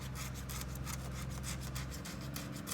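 A hand rubs steadily across the fine non-slip texture of a Swisstrax floor tile, giving a continuous close scratchy rasp with faint pulsing strokes.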